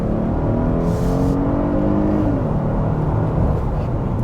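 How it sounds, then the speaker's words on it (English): A 2021 Genesis G90 accelerates hard from inside the cabin, its engine note loud and rising steadily in pitch before settling into a sustained roar, with no one speaking. "I'm gonna gun it."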